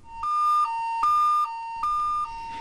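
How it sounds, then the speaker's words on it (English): A Snorkel rough terrain scissor lift's tilt alarm, warning the machine is out of level, alternates between two pitches in a repeating warble, three loud cycles with short gaps, steady and close. "The tilt alarm makes a warbling sound like this."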